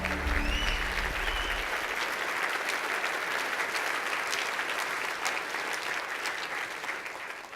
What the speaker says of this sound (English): Let's have another round of applause for a truly remarkable man.